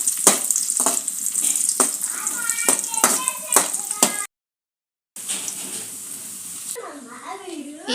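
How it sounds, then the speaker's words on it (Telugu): Raisins and almonds frying in ghee for rava laddu, a steady close sizzle with sharp clicks of stirring, a brief silent gap, then more sizzling with a voice talking at the end. "కిస్మిస్, బాదం పప్పులు వేపేసుకుందాం."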